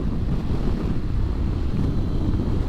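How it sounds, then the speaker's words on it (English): Heavy wind buffeting the microphone of a rider on an XR150L motorcycle in the first snow, a loud continuous low roar and rumble with no let-up. "It was like a wind pushing me from the right, and then it switched over to a left side."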